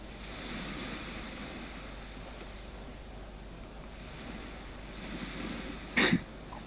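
Soft waves wash continuously onto a beach, faint and distant, with light wind noise and a brief sharper burst near the end.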